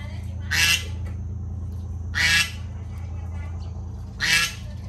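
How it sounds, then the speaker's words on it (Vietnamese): A neighbor's goose honks three times at an even pace, each honk loud and harsh, over a steady low background hum. "Rồi con ngỗng này là của hàng xóm hả chị?"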